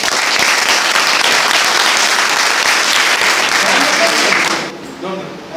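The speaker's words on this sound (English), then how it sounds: "Give her a big clap." Audience at a school event breaks into loud, steady applause for several seconds, dense and sustained, then cutting off abruptly near the end.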